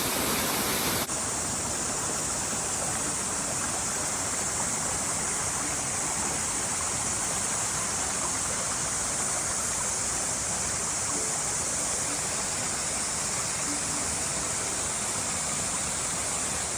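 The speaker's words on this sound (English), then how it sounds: "had to walk a couple of minutes from the reservoir to find this beautiful waterfall." A waterfall roars in a constant, dense hiss of rushing water, loud and unbroken throughout.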